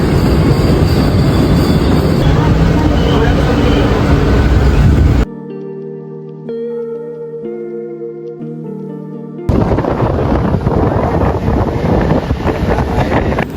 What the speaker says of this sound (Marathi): ट्रेन आलेली आहे आणि